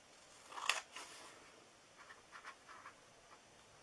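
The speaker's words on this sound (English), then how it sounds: "We're going to cut this triangular part off right here." Scissors snip through scored card for a gift card holder, one sharp close cut followed by a few lighter, quieter snips.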